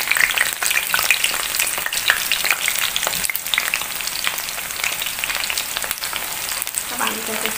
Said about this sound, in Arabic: الزيت بتاعي اهو، هنزل بيه الباذنجان بتاعي اللي على قدي